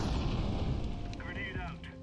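A grenade detonates in a shooter game, a deep, rumbling boom that starts strong and slowly fades, with a voice briefly heard over the tail.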